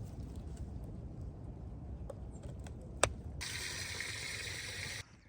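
Water pours into a newly built duck pond as a steady low rush, with a few splashes and clicks, then a brighter gushing hiss joins in before it suddenly cuts off.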